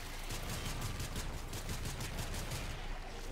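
Rapid gunfire from a weapon in the Warframe video game, a dense continuous burst of fast repeating shots with a steady loud level throughout, no talking over it.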